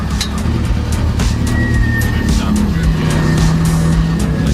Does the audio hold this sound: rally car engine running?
yes